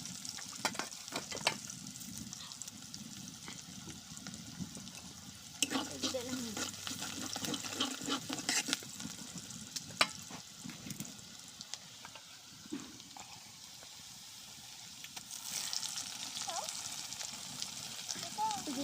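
Ground cumin, ginger, onion and garlic paste frying in oil, a quiet continuous sizzle with scattered scraping stirs and clicks of a spatula in the pan, while someone talks over it.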